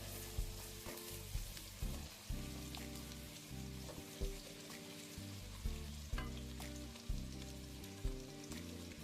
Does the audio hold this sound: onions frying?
yes